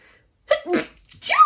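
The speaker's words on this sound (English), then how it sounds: "It's a sneeze. It's just a sneeze" A single close sneeze, a quick sharp intake of breath followed by an explosive burst, in an otherwise quiet space.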